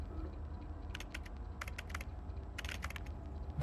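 Keyboard typing from the name-entry screen of the game Arknights: Endfield, with crisp clicks arriving in short clustered bursts over a steady low background hum, no voices.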